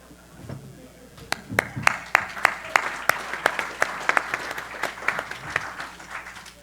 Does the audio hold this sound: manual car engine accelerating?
no